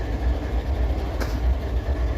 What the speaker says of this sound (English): He's got to get his locomotive started up.